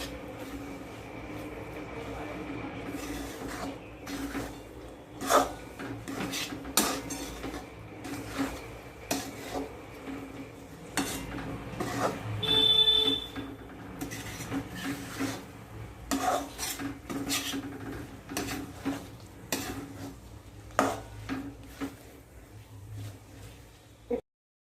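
Nuts and coconut are stirred in a pan for dry fruit laddu, a spoon scraping and clinking against the metal in irregular bursts over a faint sizzle, with quiet talk at moments.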